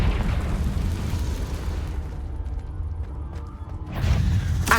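Confringo blasting spell in the video game Hogwarts Legacy, set in a cave: a loud rumbling explosion with a rough burst that cuts off into a brief quiet stretch, then a second rumbling blast near the end.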